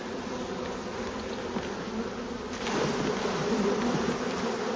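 Close, continuous buzzing of a mass of honeybees around an open hive that swells louder partway through, with no speech.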